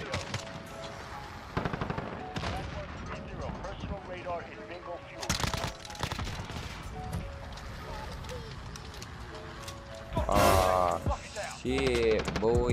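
An Uzi submachine gun in the Modern Warfare game, firing in several short rapid bursts spread across the stretch, loud and near, with someone talking between and over the shots.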